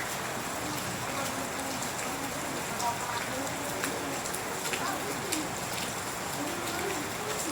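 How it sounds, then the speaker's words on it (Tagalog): Soft, steady rain from Typhoon Carina patters continuously over a flooded house, with faint bird calls and cooing mixed in. "Ewan ko lang kung naririnig niyo yung yung bagsak ng ulan."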